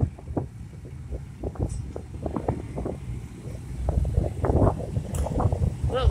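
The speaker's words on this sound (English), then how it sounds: "A little windy right here." Gusty wind buffets the microphone outdoors on a roadside as a motorcycle escort passes, with rumbling, uneven bursts of noise and a voice speaking over it.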